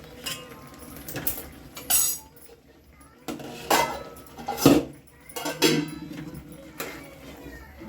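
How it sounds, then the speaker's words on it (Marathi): Bottle gourd halwa being stirred with milk in a metal pan, with repeated scraping and clinking of a spoon against the pan at an uneven pace, close by, with someone talking at times. "हे दुधी आपण आता हे पूर्ण आटोस्तोर असं हलवतच राहायचं"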